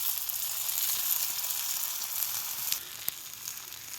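Dhapata flatbread sizzles steadily in oil on a hot griddle over a wood-fired chulha in a farm field, a continuous close frying hiss with a couple of sharp crackles near the end.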